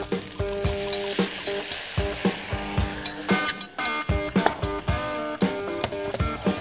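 Rancio wine poured into a hot pan of browning chicken, setting off a loud, steady sizzle and frying crackle with repeated stirring scrapes and clinks of a utensil against the pan throughout.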